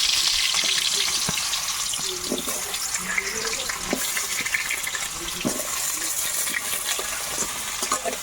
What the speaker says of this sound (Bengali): আস্তে আস্তে ওদিকে আলুটা ভাজা হতে থাকুক